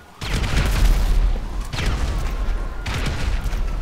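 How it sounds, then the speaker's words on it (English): Grenade launcher explosions in the video game GTA 5: a run of heavy, loud booms with rumbling low end, one blast starting near the beginning and more following in close succession, with no talk over them. "Fired some of these grenade launchers."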